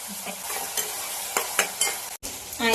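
Onions fry in oil with a pinch of salt in a pan, a bright steady sizzle punctuated by a few scraping spoon stirs and a brief pause before the hiss returns.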